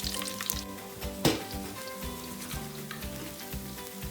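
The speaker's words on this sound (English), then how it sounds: "I'm going to use the same method to fry all the fish" Fish frying in hot oil gives a steady crackling sizzle with dense popping throughout, one sharper burst partway through, and no voices.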